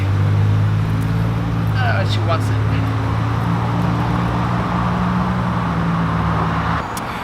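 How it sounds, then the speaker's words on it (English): Cars pass along a nearby road, making a steady, continuous traffic roar with a low engine hum underneath while a person talks over it. "you quiet down, cars"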